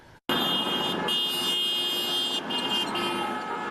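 Passing cars honking their horns at a roadside protest, one long sustained blare followed by further overlapping honks at close range, loud and continuous.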